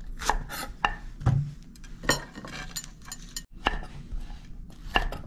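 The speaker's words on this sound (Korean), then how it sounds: "큼직큼직하게 그냥 썰어주세요." A knife chops yellowtail fish into large chunks on a board, giving about a dozen irregular sharp thuds and clicks up close, with small pauses between them.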